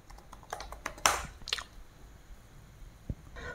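Quick keystrokes tapped on a computer keyboard in a quiet room, a few scattered clicks with one louder cluster near the middle, no voices.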